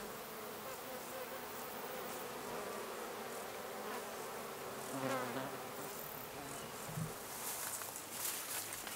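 Bumblebees and honeybees buzz steadily around flowering plants in a garden, a dense, continuous hum of many insects nearby with no voices.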